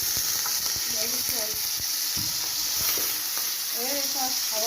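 Chicken breast fries in hot ghee with a loud, continuous sizzle and crackle, and a faint voice murmurs underneath.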